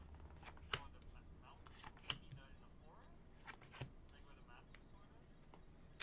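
Tarot cards being shuffled by hand, with soft riffles and sharp slaps of the deck at irregular moments, close and quiet in a hushed room.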